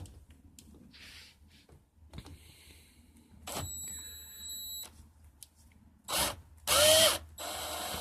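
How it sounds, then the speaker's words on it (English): A power drill whirs in a couple of short, loud bursts near the end while loosening a motorcycle carburetor clamp, after quieter mechanical clicks and handling noises. "Cheating a little bit using my drill."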